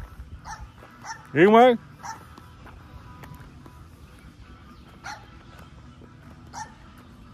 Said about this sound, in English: That's a little dog next door.